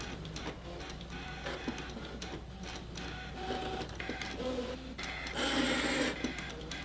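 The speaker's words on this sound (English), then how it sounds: "I love when it does the long cuts and it's just like shoop, like an actual rotary blade." An electronic fabric-cutting machine makes long cuts, with a busy mechanical whir and rapid ticking under it that swells into a louder, brighter sweep near the end.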